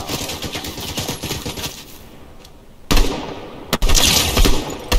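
Burst-fire weapon shots in Fortnite Season 4: rapid rattling volleys throughout, with a few sharp, louder bursts toward the end, close and punchy.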